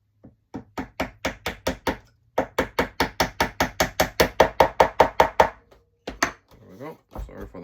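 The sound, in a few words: hammer tapping a pin into USS Missouri model planking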